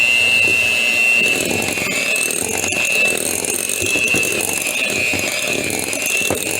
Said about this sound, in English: we're going to mix that up with a hand mixer